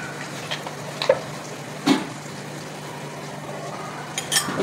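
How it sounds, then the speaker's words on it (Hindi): A spoon stirs chicken samosa filling mixed with mayonnaise and ketchup in a bowl, giving soft, faint, intermittent wet scrapes and a few light clinks in a quiet room, with no talking. "इसे मिक्स कर लेंगे अच्छे से।"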